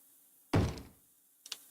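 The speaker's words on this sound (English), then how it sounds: "Someone's banging on my door." A single heavy thud against a door, followed by a couple of lighter taps a second later, in an otherwise quiet room.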